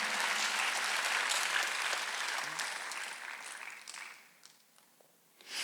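A church congregation claps during a Sunday worship service, loud, dense applause that holds steady for several seconds, then thins and fades to near quiet before a brief swell at the end.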